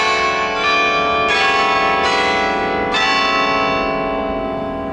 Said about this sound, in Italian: Ecco, sei in tempo per sentirti anche le campane.